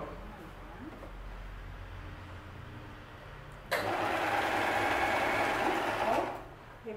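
Sewing machine stitching seams on a white dress: a quiet hum, then a sudden louder burst of rapid, continuous needle whirring for a few seconds before it stops.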